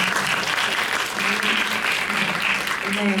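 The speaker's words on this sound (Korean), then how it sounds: "큰 박수 부탁드립니다" Dense, sustained applause from a large audience fills a cinema screening event, loud and continuous with no breaks, faint voices mixed underneath.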